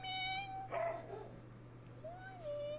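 A pet dog gives a single sharp bark-yip amid a steady electronic hum, with a whistling tone before and after; the bark is brief and close.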